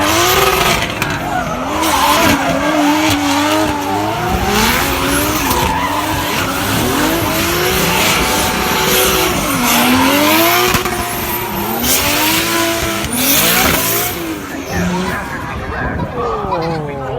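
Specially built drift cars with ceramic clutches sliding at Carfest North, engines revving hard and tyres squealing in long wavering screeches, loud and continuous with rising and falling pitch across the run.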